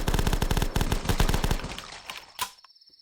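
Rapid bursts of gunfire in the video game Return To The Past, a fast rattling stream of shots for about two seconds that thins out, ending in a final louder shot.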